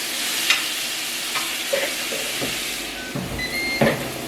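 Chicken pieces searing on a very hot grill plate, a steady broadband sizzle with a few sharper crackles and clinks close by, no talking.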